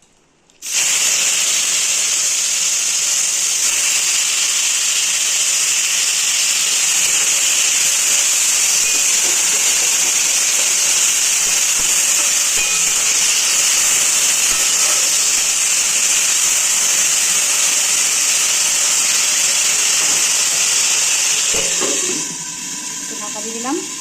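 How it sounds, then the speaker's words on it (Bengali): Okra (bhindi) frying in a home kitchen pan gives a loud, steady hiss and crackle that runs without a break for about twenty seconds before it cuts off. "এখানে এখন ভেন্ডিটা ভেজে নেবো।"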